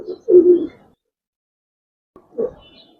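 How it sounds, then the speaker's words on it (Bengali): An old-generation Giribaz pigeon coos nearby in two short, low, throaty bursts, with a long pause of silence between them. "পুরান জাতের বেশ সুন্দর কবুতরটা"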